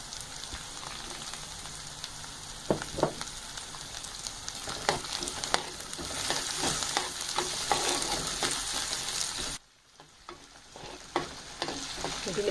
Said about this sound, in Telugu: ఇప్పుడు దీనిలో సన్నగా తరిగి పెట్టుకున్న ఆలుగడ్డ ముక్కల్ని వేసుకోవాలి.